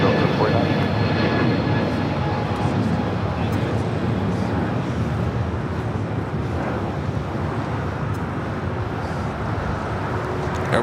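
A jet airliner takes off at Los Angeles LAX, a loud steady engine roar with wind rumble that holds for the whole stretch, while faint radio talk sits underneath.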